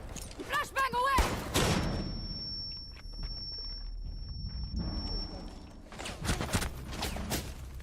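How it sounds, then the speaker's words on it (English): A flashbang grenade detonates in Rainbow Six Siege as a loud, sharp bang, followed by a steady high-pitched ringing that lasts about four seconds over muffled game sounds before noise returns. A voice is heard just before the blast. "Flashbang away."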